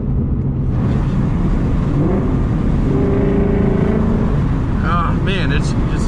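A Ford Mustang GT with a Corsa Xtreme exhaust roars at wide open throttle, a loud, high-pitched engine note climbing steadily while someone talks over it throughout.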